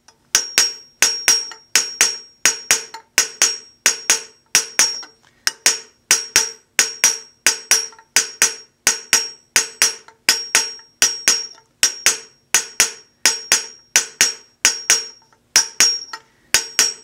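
A hammer strikes a copper vessel in a steady, even rhythm, each ringing blow followed by a brief metallic decay, dozens of hits in a row.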